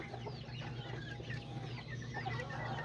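Soft, scattered clucking from a yellow giro rooster and nearby chickens drifts over a constant low hum, fairly distant and quiet throughout.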